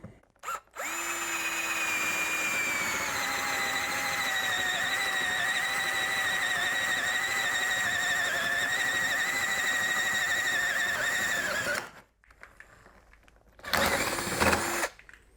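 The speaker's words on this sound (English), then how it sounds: "I'm going to take a 3/4 inch spade bit and see how it turns out." A cordless drill spins a 3/4 inch spade bit through a hole, whining loudly and steadily for about eleven seconds with its pitch sagging under load, then stops before a second shorter burst.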